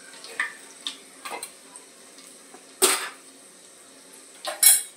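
Garlic frying in a pan for a crab curry, with a faint sizzle under sporadic spoon clinks and scrapes against the pan, including a couple of sharper knocks.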